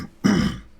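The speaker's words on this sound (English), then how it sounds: "Excuse me, clearing my throat there." One short, gruff throat clear, close and fairly loud, then quiet.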